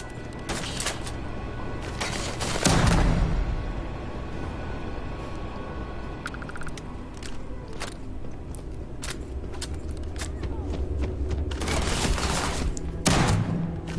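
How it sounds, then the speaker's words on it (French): Rifle gunfire in the game Starfield, loud sharp shots in scattered bursts and quick volleys across the stretch, with booms and mechanical clatter between them and no talk. "Par contre, ce fusil, il tue."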